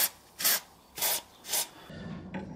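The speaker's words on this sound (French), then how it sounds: "on va passer déjà du dégrippant" Penetrating oil sprayed from an aerosol can onto the stabiliser bar link of a 2003 Renault Laguna II 1.9 dCi, heard as three or four short, close hissing bursts with brief pauses between, then a low rustle.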